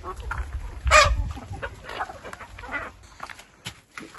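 Chickens cluck nearby, with one louder squawk early on among scattered rustling and low outdoor noise.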